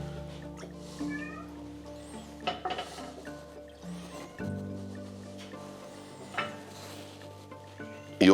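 A cat meows repeatedly and close by in a kitchen where pig trotters are being prepared for a jellied meat dish, its calls rising and falling between soft clinks of dishes.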